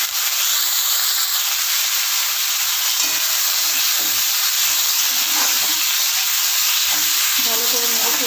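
Washed, drained mustard greens hit a hot wok and fry with a steady, loud sizzle and hiss throughout, with faint stirring scrapes near the end.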